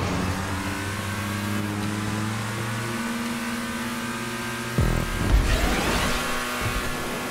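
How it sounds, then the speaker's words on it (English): Car engine revving in GTA5 during a stunt race, a steady rising engine tone that drops abruptly and then surges with a louder, rougher burst of acceleration, close and alone with no talk. "It's nice engine noise, though."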